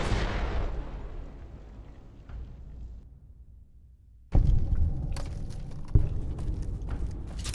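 Bombs going off in Fallout: New Vegas: a big blast decays into a long rumbling tail, then after a near-silent gap a second sharp explosion hits, followed by further bangs and debris clatter.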